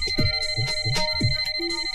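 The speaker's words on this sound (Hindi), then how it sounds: "मदन प्लीज जाके फोन देखना प्लीज" A phone rings in a steady, repeating electronic pattern of short tones, loud and close, with other noise under it.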